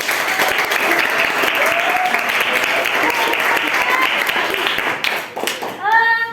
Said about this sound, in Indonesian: Aplaus untuk kita semua dulu.